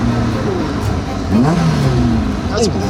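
Supercharged Ariel Atom 4R engine revving, with rising and falling whining sweeps as the engine climbs and drops through revs, loud and close, with some talk mixed in.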